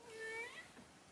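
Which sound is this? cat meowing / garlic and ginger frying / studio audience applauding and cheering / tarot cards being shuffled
cat meowing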